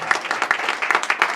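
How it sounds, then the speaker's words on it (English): Studio audience applauding at a comedy news show, a dense, steady burst of clapping heard up close for a moment with no talk over it. "Give them a round of applause."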